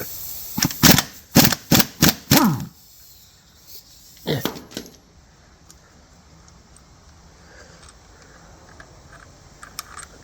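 An impact gun undoing the crank pulley bolt on an MG ZT-T, firing several sharp hammering bursts close by in quick succession, then a shorter burst after a pause, followed by quiet workshop background.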